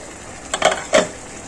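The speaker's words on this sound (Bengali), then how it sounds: "এবার আমি ঢাকনাটা খুলবো" The lid of a cooking pot comes off during fish curry preparation, giving two quick metallic clatters close by, the second a little louder, with no talk.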